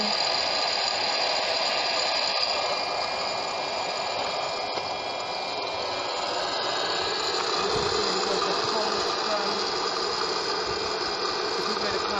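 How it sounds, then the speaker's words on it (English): A popcorn machine runs with corn spinning inside its kettle, giving a steady broadband whir and hiss that holds evenly from start to finish, with no clear pops standing out. "the popcorn is spinning inside. That's the corn you're spinning."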